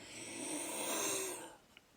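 Rough, wheezy breathing from a person with a bad cough, heard close up as one long raspy breath lasting over a second before it fades to near silence with a small click.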